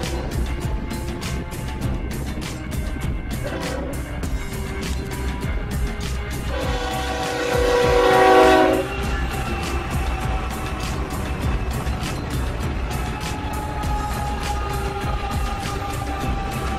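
A long freight train hauled by several locomotives passes in a steady rolling rumble, and a horn blasts loudly for a few seconds midway before the clatter carries on.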